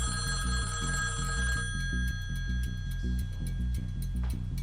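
A telephone bell rings loudly in a steady, repeating pattern of rapid trilled bursts, heard on its own with no talking over it.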